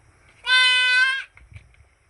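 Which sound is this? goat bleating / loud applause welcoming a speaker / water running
goat bleating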